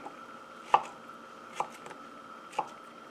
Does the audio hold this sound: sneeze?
no